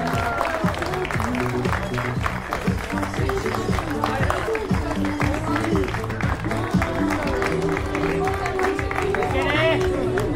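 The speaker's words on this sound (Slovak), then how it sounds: "Mnohým potlesky pre tieto sympatické dámy." Crowd clapping at a running race award ceremony as women medalists are honored, steady rhythmic applause mixed with loud announcer talk and crowd chatter throughout.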